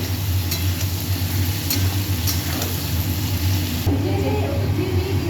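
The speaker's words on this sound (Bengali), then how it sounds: "এখন দিলাম হলুদ ভালো করে নেড়ে নেব" Salt and turmeric stirred into food frying in a pan: a steady sizzling hiss with scraping stirring strokes, close by, over a constant low background hum.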